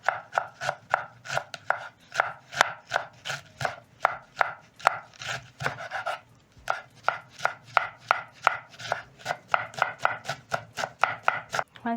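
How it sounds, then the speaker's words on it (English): Knife thinly slicing red cabbage on a board, a steady rapid series of crisp chopping strikes, close and clear, with a brief pause midway. "You're going to pick your knife and thinly slice your red cabbage."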